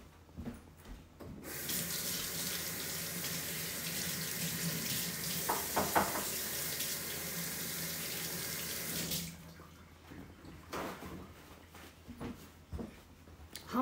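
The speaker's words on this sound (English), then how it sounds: "I'm gonna go wash my hands." A kitchen tap runs steadily for several seconds while hands are rinsed under it, a close, even rush of water with brief splashing changes, then shuts off, leaving faint clatter.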